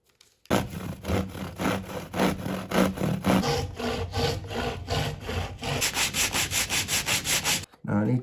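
A plywood part for the superstructure of a 1960s Veron Caribbean Coaster model boat is sanded to shape in steady back-and-forth strokes. The rasping is loud, close and rhythmic, with about two strokes a second, and stops briefly near the end.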